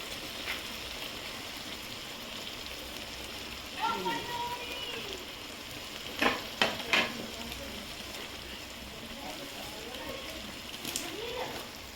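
Mutton curry spices and ginger paste sautéing in a pan crackle and sizzle steadily, with stirring scrapes around the middle and a faint voice briefly underneath.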